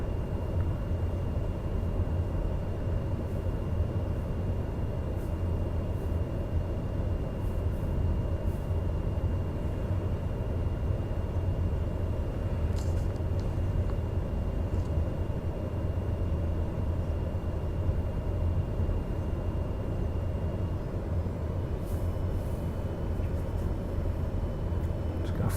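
A TBM 9 warbird aircraft taxis out, its engine a steady droning hum with a faint high whine that holds unchanged throughout, moderately quiet with no talking.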